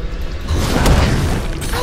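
A Malphite ability lands in League of Legends, a brief heavy rumbling boom with rocky crunching texture that swells and fades within two seconds.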